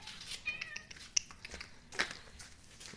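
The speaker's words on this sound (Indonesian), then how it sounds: "Ini kucing kita lama gak kesini." A domestic cat meows a few short times nearby, with soft rustling and crinkling between the calls.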